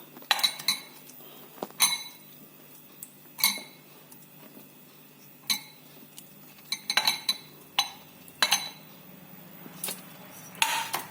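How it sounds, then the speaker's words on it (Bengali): Pieces of paneer are added to batter in a bowl for chilli paneer, producing a series of sharp, irregular metallic clinks and taps of utensil against bowl with quiet gaps between them. "পনিরের টুকরোগুলো আমি এবার ব্যাটারটার মধ্যে দিয়ে দেবো।"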